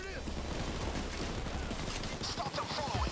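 Gunfire in the video game Payday 2: dense, continuous rattling bursts of shots over a rumbling mix of game noise and faint talk.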